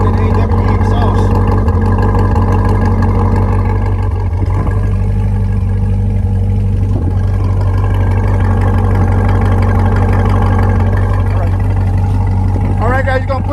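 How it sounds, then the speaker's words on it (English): A 2021 Corvette Z51 idles with a loud, steady, deep exhaust burble throughout, close to the microphone, while people talk over it. "let's hear that exhaust sound."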